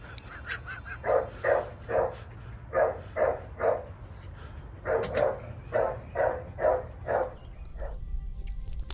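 A mutt and a bulldog bark at two visiting dogs indoors, sounding in repeated bursts of two to four barks separated by short pauses, moderately near over a low background hum.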